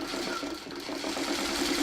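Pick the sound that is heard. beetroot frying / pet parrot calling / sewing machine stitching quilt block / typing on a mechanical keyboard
sewing machine stitching quilt block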